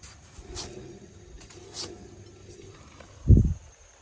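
A wheel bearing spun by hand for a noise check gives a faint, steady low whir, then a short, heavier rumbling thump near the end.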